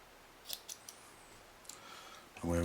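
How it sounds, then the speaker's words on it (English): Scissors make a few quick, faint snips in a quiet room, spaced close together, before a louder rustle or handling noise at the end. "out with the scissors"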